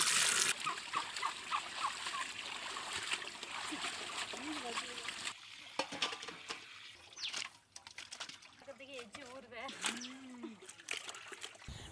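Lizard fish being rinsed by hand in water with turmeric powder and salt, village-style cooking, gives close splashing and trickling water sounds in bursts, with a voice talking over parts of it.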